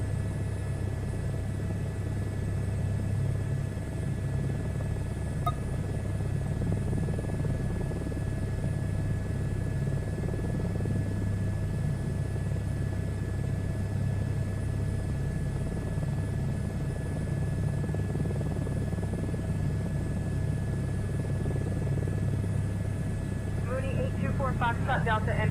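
A helicopter in a VR flight simulator game flies steadily with a constant loud rotor and engine drone throughout, and a brief higher-pitched sound rises near the end.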